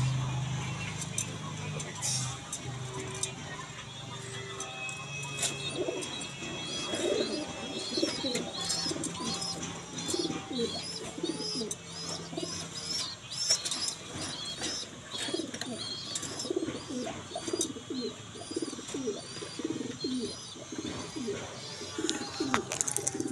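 Pigeons coo again and again in repeated low, rolling phrases over steady ambient noise, with scattered higher chirps from other birds mixed in throughout.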